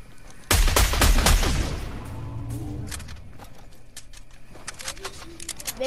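Heavy burst of repeated gunfire in Fortnite, aimed at the gold Kevin cube, loud and dense for about two seconds, then trailing off into scattered quieter shots and in-game clatter.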